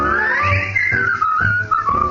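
A melodic whistled tune from a song in an old radio comedy show glides and wavers in pitch, fairly loud and close, carried over a soft musical backing without any spoken voices.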